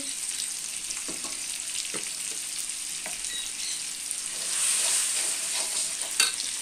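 Food fries in a pan with turmeric and chili powder, a soft, continuous sizzle with scattered clicks of a spoon stirring, growing slightly louder toward the end and capped by one sharper scrape.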